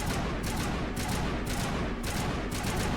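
Rapid automatic gunfire in Mass Effect, fired at the Thorian node, forms a dense, continuous rattle of bursts with a few heavier shots standing out, loud and sustained with no talking.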